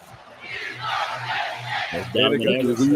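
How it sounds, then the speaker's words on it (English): A large stadium crowd in a college football video game roars and chants "We Are Penn State" in unison at a distance, swelling louder near the end as voices close by join in. "You can hear the "We Are Penn State" chant."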